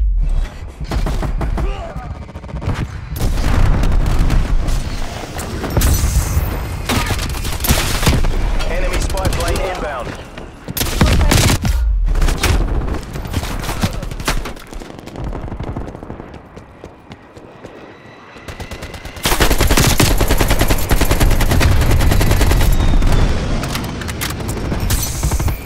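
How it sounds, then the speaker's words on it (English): Heavy gunfire from an aircraft strafe run crackles in sustained loud bursts during Call of Duty: Black Ops Cold War Hardpoint multiplayer, broken by short lulls and booms, with announcer voices over the action. "Hostile strafe run inbound."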